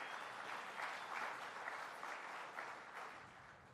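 An audience at a Cherokee speaker summit claps together in sustained, dense applause that sounds somewhat distant and soft and fades slightly toward the end.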